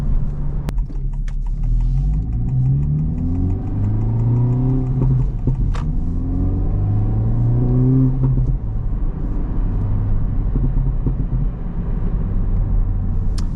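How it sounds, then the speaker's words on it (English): A Honda Civic Type R FL5 with a stage 1 tune revs several times in deep, rumbling bursts, rising and falling, loud and close with no talking. "We'll rev it a few times for you guys."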